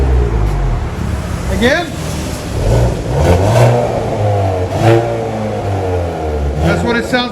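A 2020 Hyundai Veloster N with dual exhaust and its resonator still fitted, revved in neutral: repeated rising and falling engine pulls, loud and close, with someone talking briefly over it.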